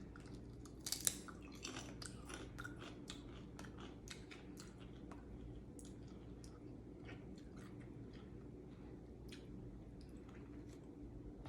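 Dutch snack chips crunched and chewed close to the mic, a dense run of small crisp bites and munching, louder at first and then continuing softly and steadily.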